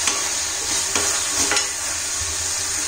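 Oil sizzling in a pan as masala is stirred, a loud, close, continuous fry with a few scraping strokes of the spoon, no one speaking.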